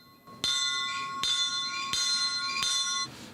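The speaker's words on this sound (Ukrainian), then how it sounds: "Вони символічно вдарили у дзвін перед початком руху поїзда." A bell is struck four times at an even pace before a Kyiv–Budapest train departs, each clear ringing tone lingering until the next strike, close and fairly loud.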